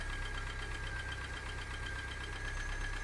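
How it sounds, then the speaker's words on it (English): A Talbot Samba GLS car engine idles steadily with an even, continuous mechanical hum and a faint ticking texture, heard close and alone without speech. "it's idling perfectly now"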